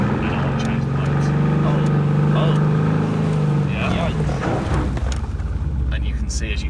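Mercedes-AMG GT R engine held at full throttle on a track, a loud steady roar with a droning pitch that climbs and then shifts near the end, while someone talks over it.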